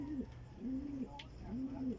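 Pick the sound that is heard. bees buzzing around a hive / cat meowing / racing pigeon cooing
racing pigeon cooing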